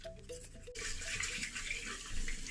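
Water runs steadily from a bathroom tap into a sink, a continuous close hiss that starts abruptly after a brief quieter moment and carries on for a couple of seconds.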